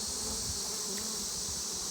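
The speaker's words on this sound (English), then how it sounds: "these are the bees that were on that small swarm right over there on that tree limb" A steady, dense buzzing of a honeybee swarm shaken from a tree limb hums continuously throughout, close and even in loudness.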